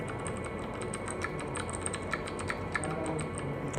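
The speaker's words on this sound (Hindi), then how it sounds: "मेरे टाइपिंग का एक ऑप्शन है, इसका साउंड इफ़ेक्ट आपको मिल जाएगा" Computer keyboard typing used as an added sound effect: a fast, steady run of light clicks at an even level throughout, with no voices.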